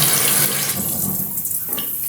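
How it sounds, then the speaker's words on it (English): Steady rushing spray of water shooting from a faulty Fluidmaster 400A toilet fill valve, loud and close, hissing continuously throughout without pause. "See how the water's shooting out of there?"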